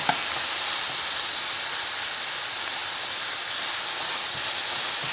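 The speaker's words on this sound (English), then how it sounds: "So my oil was hot when I first dropped it in, but I instantly turned it down." Onions frying in hot oil on a stove turned down to medium low, making a loud, steady, even hiss with no pauses or voices.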